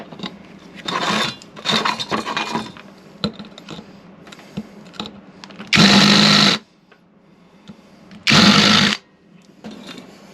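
A drill fitted with a larger-diameter bit bores through material in two loud, steady bursts, each lasting under a second, with quieter handling clatter and bumping in between.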